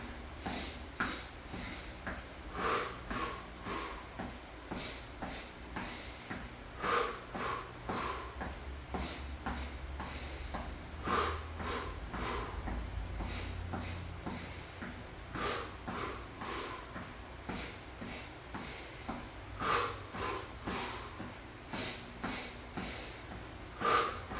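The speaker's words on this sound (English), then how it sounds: "So, inhale, exhale, march and breathe." Rhythmic sharp sniffs and exhalations repeat at a steady pace as someone breathes while marching during a shoulder-focused garage workout, the breaths close, fairly quiet and without talk.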